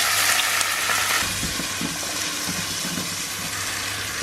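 Butter and a dash of wine sizzle steadily in a pan while cod cooks, a continuous close frying hiss with faint bubbling and occasional stirring clicks, no voices.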